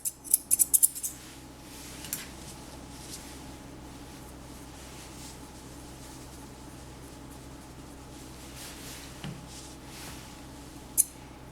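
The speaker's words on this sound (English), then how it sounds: "with my curved shears in reverse, come over the top of the ear" Curved grooming shears snip around a poodle's ear, with a quick burst of close, crisp cuts at the start, a few isolated snips later, and a soft steady background hum between them.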